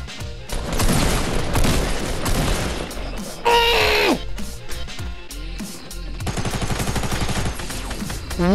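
Rifle fire in Fortnite Battle Royale: dense bursts of rapid gunshots fill most of the stretch, with a brief sustained electronic tone in the middle and loud game effects throughout.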